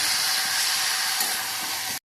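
Spinach leaves dropping into a hot pan and frying, giving a loud, steady, close sizzling hiss that runs for about two seconds and then cuts off abruptly.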